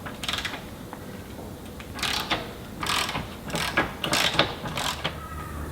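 A socket wrench ratchets on the fuel tank retainer bolts of a Land Rover Discovery 2, giving several short bursts of rapid clicking separated by brief pauses, close and fairly quiet.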